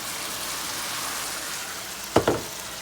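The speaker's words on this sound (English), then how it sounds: "we're going to deglaze that bottom of that pan" Half a cup of white wine hits a hot pan of sausage and rice, giving a steady, close sizzle with two quick clanks of a utensil near the end, no talk.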